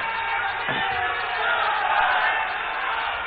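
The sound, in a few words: audience applause welcoming Saroj Pandey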